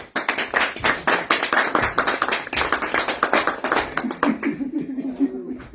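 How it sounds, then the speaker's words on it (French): An indoor audience claps briskly for a latecomer, a dense run of hand claps lasting several seconds, with light laughter mixed in before the clapping thins out and a voice speaks. "Ah, on peut l'applaudir pour le retard."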